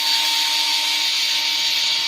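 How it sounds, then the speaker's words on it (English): Power tool driving screws while a front axle is repaired, giving a continuous, loud, steady whirring drone close by with no breaks. "Power tools just makes it better."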